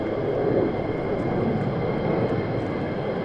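An F-35 fighter jet flying over RAF Lakenheath, a loud steady broadband engine roar that holds without a break through the whole stretch, no talking.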